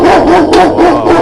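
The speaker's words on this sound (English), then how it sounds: "That was a very loud bark." A big dog barks loudly and close by near an old caravanserai wall in a windy town, giving three or four deep, rapid barks in a row.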